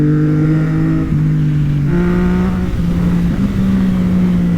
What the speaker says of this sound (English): boys, this exhaust sounds good.